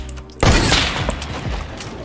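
A single loud sniper rifle shot in a video game bursts out suddenly after a quiet moment, followed by a rumbling echoing tail and faint clatter as it fades.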